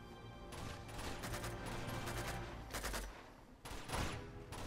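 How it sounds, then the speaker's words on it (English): Sustained gunfire from the Uncharted 2 video game, with dense bursts of rapid shots and louder volleys toward the end, continuous and close throughout. "He shot through the boxes."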